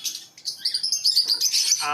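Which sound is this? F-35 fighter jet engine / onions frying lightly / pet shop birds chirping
pet shop birds chirping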